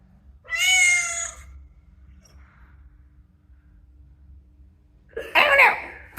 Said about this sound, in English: I think that is a cat.